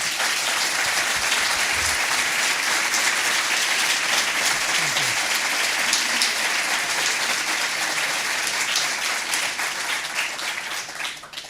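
Sustained applause fills the hall at a public event for author Fernando Aramburu and his novel Patria, a dense, even wash of many hands clapping that fades slightly toward the end.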